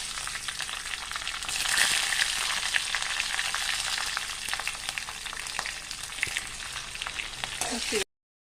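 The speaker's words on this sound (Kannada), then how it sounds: "ಸ್ವಲ್ಪ ಎಣ್ಣೆ ಇಟ್ಟಿದ್ದೇನೆ, ಅದಕ್ಕೆ ಸ್ವಲ್ಪ ಜೀರಿಗೆ, ನಂತರ ಕರಿಬೇವಿನ ಸೊಪ್ಪು ಮತ್ತು ಹಸಿಮೆಣಸು 4." Cumin seeds, curry leaves and four green chillies frying in a little oil for dal fry: a dense, loud crackling sizzle throughout, with occasional pops and light stirring, ending abruptly.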